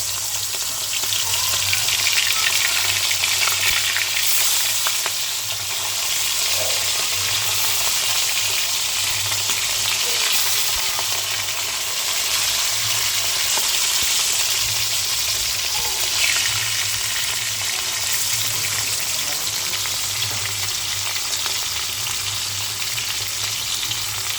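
Hilsa fish fry in hot oil in a wok, giving a loud, steady sizzle and crackle that holds without a break for the whole stretch, with only faint clinks of stirring now and then.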